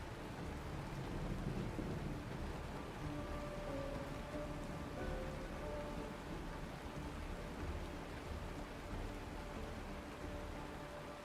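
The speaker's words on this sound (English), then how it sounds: "It is raining." Rain and thunder from the video game Honkai Star Rail, a steady wash of rainfall with low rolling rumbles underneath, continuous and fairly loud with no voices.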